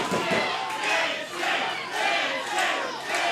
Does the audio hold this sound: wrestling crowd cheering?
yes